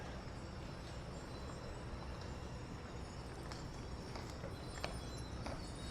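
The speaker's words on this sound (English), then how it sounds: "we have the carriage again with the horsey" Hooves of a horse pulling a carriage clip-clop along the route of a Disney Magic Kingdom Christmas parade, faint and fairly distant beneath a steady crowd murmur and outdoor ambience.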